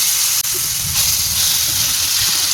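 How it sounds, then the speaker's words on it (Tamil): Marinated tandoori chicken dropped into hot oil in a home pan, giving a loud, steady broadband sizzle and hiss that runs throughout with no talk. "இப்போ இதில் நல்ல எண்ணெய் சூடாகிட்டு நம்ம மிக்ஸ் பண்ணி வச்சுருக்க சிக்கனை இதில் சேர்த்துருவோம்"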